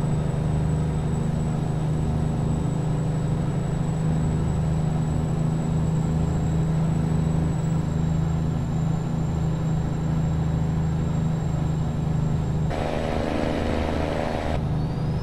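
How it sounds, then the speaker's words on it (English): Steady truck engine drone from the American Truck Simulator game, a low continuous rumble with a constant whine above it, smooth and unchanging, with no talk over it. "And this truck just sounds great."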